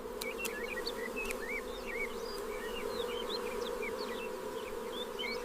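Bees buzz steadily in a dense, continuous hum, with a few higher chirps flitting over the drone.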